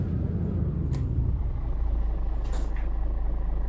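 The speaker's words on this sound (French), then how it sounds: "très joli ton son de camion" Low engine rumble of a heavy truck with two short, sharp hissing bursts of air brakes, the second louder and longer.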